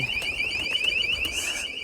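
An anti-theft alarm mounted on a rooftop pigeon loft gives off a fast warbling electronic tone that repeats steadily and sounds moderately close, with a few faint knocks in the background.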